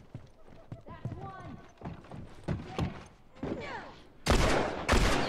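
Gunfire in the video game The Last of Us Online, a few sharp loud shots near the end, heard under excited talk and other game sounds.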